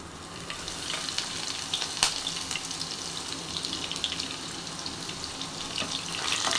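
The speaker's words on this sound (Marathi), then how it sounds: "ऑइल छान असं गरम झालं की मग आता मी लसूण टाकून घेणार आहे याच्यामध्ये" Garlic frying in hot oil in a pan, a steady broadband sizzle with crackling pops that runs continuously and fairly loud throughout, with no talking.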